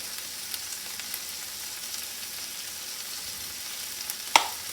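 Corn kernels seasoned with salt fry in a pan with a steady, faint, even sizzle throughout, broken near the end by one sharp clink of a utensil.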